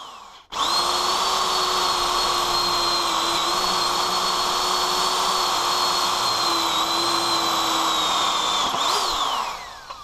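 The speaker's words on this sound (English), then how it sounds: "I'm drilling each hole through the trolley chassis to ensure the mounting bolts do" Power drill boring holes through the steel chassis of a welder trolley, a loud steady whine with a constant pitch running nearly unbroken for about nine seconds before spinning down, alone with no talk.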